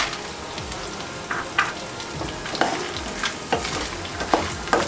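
Makhana (lotus seeds) roasting in a pan, with a steady dry sizzle and regular scraping stirs giving sharp clicks and rattles, close and alone.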